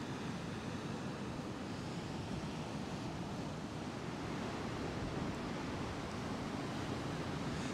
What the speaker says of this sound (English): Look how fierce the sea is.